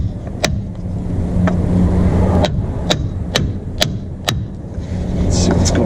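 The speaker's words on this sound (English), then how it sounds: "let's just try this with a mallet real quick" A mallet smacks an aluminum piece on a 1948 Dodge rear brake drum in a shop, about nine sharp, ringing metallic strikes at uneven intervals over low background hum.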